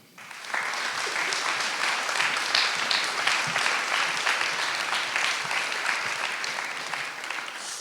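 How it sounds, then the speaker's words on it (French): Audience applause at an evening storytelling event, dense steady clapping from a crowd that swells in after a brief quiet start and holds strong for several seconds. "Merci d'applaudir François."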